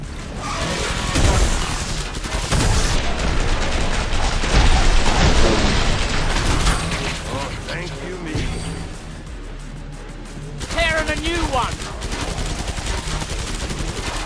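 Rapid automatic gunfire in Killing Floor 2 clatters in dense, loud bursts through most of the stretch, joined by crashes and a few booms, with brief pauses and lighter shots near the end.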